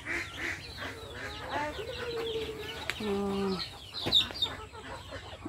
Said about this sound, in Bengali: এই যে মুরগির খোপ আর কি, মুরগির খোপে মুরগিও রাখা হয়